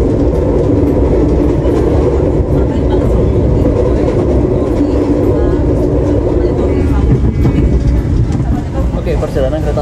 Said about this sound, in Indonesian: perjalanan kereta api Argo Dwi Pangga sudah mendekati stasiun Tugu Yogyakarta